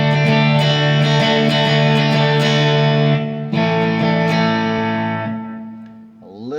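A sustained chord from a Fender Eric Clapton Stratocaster rings out with a wide wash of reverb and delay, swelling and then fading into a long, shimmering tail.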